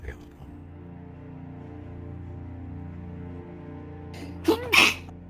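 One close, loud sneeze bursts out near the end after a stretch of low, steady background hum, with people talking during the clip.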